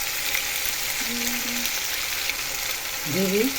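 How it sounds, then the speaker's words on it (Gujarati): Tomato puree going into a frying pan with curry leaves for a dhaba-style matar paneer, a steady close sizzle of oil with a few soft scraping and clinking sounds near the end. "હવે તેમાં ટામેટાનું સૂપ નાખીશું."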